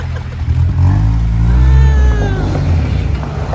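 A Honda Civic hatchback, just fitted with a replacement cylinder head and valves, pulls away with a loud, close engine rev that rises in pitch as it accelerates.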